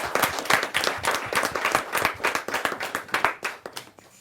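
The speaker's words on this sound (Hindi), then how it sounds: "जोरदार तालियों के साथ हम उनका स्वागत।" Audience at a Hindi poetry gathering (kavi sammelan) gives a guest a burst of hearty clapping, dense individual claps close by, fading toward the end, with no talk over it.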